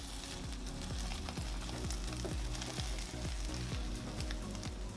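Egg omelette mixture frying in a pan, with meat set on the cooked part, giving a steady, close sizzle and crackle throughout, accompanied by faint repeated low knocks.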